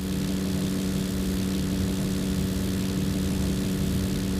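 Base Cessna 172 propeller engine in the X-Plane 11 flight simulator game, a loud, steady low drone with a strong tonal hum and rough throbbing, constant and close with no pauses.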